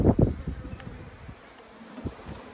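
Honey bees at an open hive give off a faint, thin buzz under soft handling knocks and rustles, with a few brief close clunks near the start.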